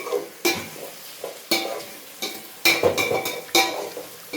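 Biryani ingredients sautéed in a pan in a home kitchen, with a close, rhythmic series of scraping stirs over a low sizzle, each stroke sharp and repeating about once a second.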